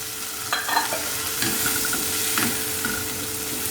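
Finely chopped tomato is stirred into cooked vegetables in a frying pan, with several scraping strokes over a steady, close sizzle.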